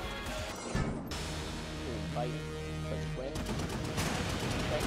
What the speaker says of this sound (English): Chain fires homing rockets, a legendary weapon manufactured by Zilla Industries